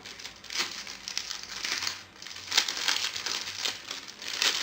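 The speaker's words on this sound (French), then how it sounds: "Je vais vous en déballer un." Packaging being unwrapped by hand, with close, continuous crinkling and rustling of plastic or paper that swells in short surges and carries no talk.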